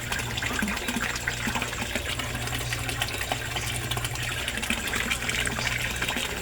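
A koi pond aerator pump churns steadily into a three-foot-deep pond, giving a continuous close rush of bubbling, gushing water with a low hum underneath and no talking.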